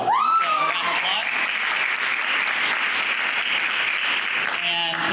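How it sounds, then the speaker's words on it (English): An audience at a panel discussion on suicide awareness claps steadily throughout, a dense, even patter of applause, with a brief voice at the start. "So round of applause."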